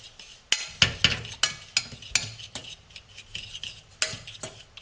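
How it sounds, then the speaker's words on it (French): Caster sugar and half a lemon's juice are stirred in a pan for salted butter caramel, giving close, rhythmic scrapes and clinks of a utensil against the pan, about two strokes a second, alone and clear. "Je touille"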